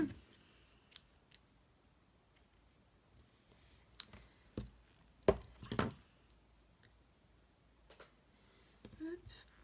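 Scissors snip butcher's twine into two short pieces for Christmas ornament balls, giving a few quiet close clicks and cuts in a mostly hushed tabletop setting.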